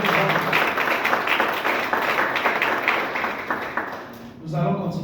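A congregation at a full gospel church conference in Togo applauds and cheers in a dense, steady burst that fades near the end before a voice returns.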